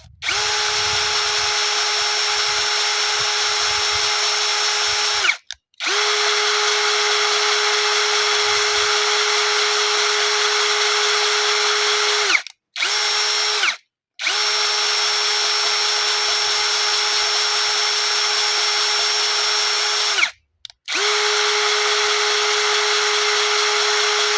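A power drill spins valves against their seats while lapping them on a John Deere 2264 8.1-litre diesel cylinder head, a loud steady whine running in long bursts with several brief pauses, no talking.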